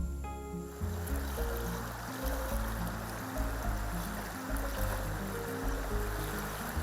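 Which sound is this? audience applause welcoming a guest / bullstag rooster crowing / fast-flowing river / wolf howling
fast-flowing river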